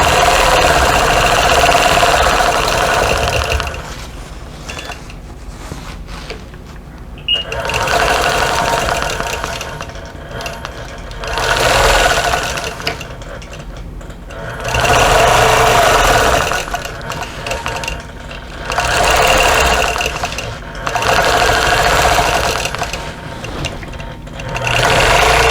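A sewing machine stitches a quilted table runner in loud, steady bursts of whirring, each lasting a few seconds and separated by brief quiet pauses, close to the microphone with no talk.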